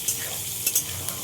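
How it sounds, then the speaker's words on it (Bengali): Onions sizzling in hot oil in a pan for a meat curry, a steady close frying hiss with a few soft stirring clinks and scrapes. "পেঁয়াজটা ভালো করে ভেজে নিই।"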